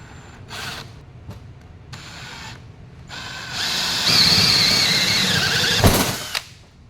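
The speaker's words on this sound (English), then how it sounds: "now that we got the 3/4 inch holes drilled, we're going to move on to the 1 inch holes" A power drill bores 1 inch holes into a deck for an oval deck plate, starting with short bursts, then a sustained whining, squealing cut that ends abruptly.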